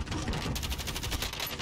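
Rapid automatic gunfire in Call of Duty Warzone, a dense burst of repeated shots in quick rhythm, loud and close, with no talk over it.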